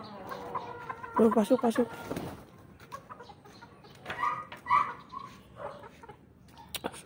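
Chickens cluck in a burst of clipped calls up close, then a few scattered clucks follow, with a brief spoken word mixed in.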